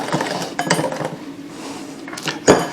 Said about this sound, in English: And then mix them up again.